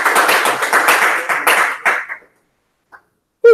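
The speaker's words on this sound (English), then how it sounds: "we should give ourselves a round of applause for the doing so well" A class claps for itself in a short, close burst of applause that lasts about two seconds and then stops abruptly, followed by near silence and a brief tap.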